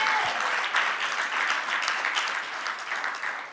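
Clapping from the audience at a parliamentary meeting of women legislators: sustained, even applause from a sizeable crowd that holds steady, then thins slightly near the end.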